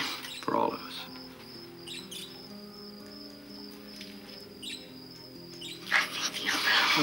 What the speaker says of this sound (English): The only thing happy in this house are those birds.